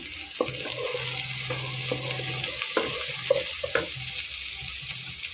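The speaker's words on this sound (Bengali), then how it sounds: "এবার আমি এখানে গোটা জিরাটা দিয়ে নিচ্ছি" Whole cumin seeds crackle and sizzle in hot oil for a Bengali beef curry, a steady close hiss broken by stirring scrapes and soft pops.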